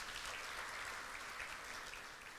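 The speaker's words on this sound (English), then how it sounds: "Let's give a round of applause." Faint, steady applause from a gala dinner audience at the 19th Ambassadors Conference in Nairobi, a soft continuous patter of many hands without voices.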